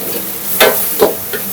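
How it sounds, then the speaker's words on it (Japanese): Loud, steady sizzling of chicken oil and scallion oil in a hot wok with fried rice, with a few scraping stirs of a utensil breaking through the hiss. "もう一度鶏油とネギ油で、この鍋肌を焼いていきます"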